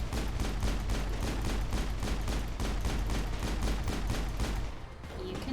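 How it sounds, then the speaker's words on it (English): Rapid sustained gunfire in a sci-fi shooter video game, from a sniper rifle, loud and continuous with dense repeated shots and a rumbling low end, easing slightly at the very end, with no voices. "Garrus, use your sniper rifle."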